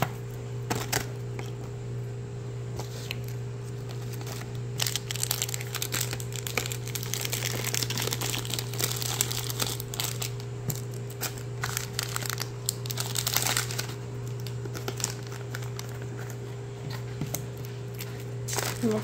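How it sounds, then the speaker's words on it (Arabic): Wrapped candies dropped into a small teacher-appreciation gift bag make bursts of close crinkling and rustling plastic, irregular and busiest in the middle, over a steady low electrical hum. "بعد كده بقى شويه ملبسات وحاجات هحذفها جوه كده"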